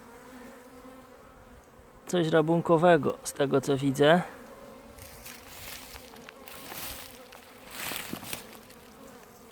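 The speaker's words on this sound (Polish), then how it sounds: "Tu pszczoły latają, może z tej strony." Bees buzz close by in a forest in early spring, a loud, pulsing drone lasting about two seconds, followed by quieter rustling and someone speaking softly.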